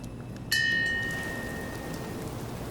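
Rain falling in the video game Fallout 4, a steady broadband hiss of rainfall that holds throughout, with a sharp ringing tonal chime at the start that fades slowly over the next seconds.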